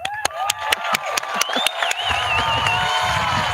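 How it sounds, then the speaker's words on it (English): A San Marino High School graduation audience applauds and cheers, with scattered sharp claps and whistling tones rising over a building crowd roar. "You guys may applaud now."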